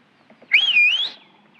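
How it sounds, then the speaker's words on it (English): A person gives a single clear whistle, a bright wavering tone lasting about half a second that rises at the end, close and alone. "You know how to whistle, don't you?"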